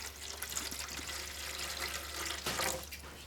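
Plain water poured into the reservoir of a 7-inch stone trim saw, a faint, steady trickling stream with a slightly stronger splash near the end.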